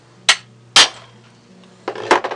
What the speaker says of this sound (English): we're going to hammer that in place